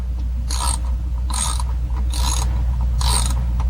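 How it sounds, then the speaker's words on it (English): A hand ratchet clicks through a socket in four short bursts of rapid metallic clicking, evenly spaced and close up, over a steady low hum. "Then use a ratchet."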